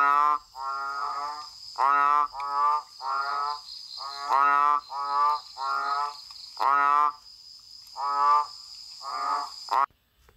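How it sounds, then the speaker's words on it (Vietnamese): Frogs croak in loud, rhythmic bursts of raspy pulses at night, repeated about ten times, over a steady high insect whine in a spoken Halloween ghost story. "Bên ngoài tiếng côn trùng, tiếng ếch nhái, nghe như tiếng ai rên rỉ."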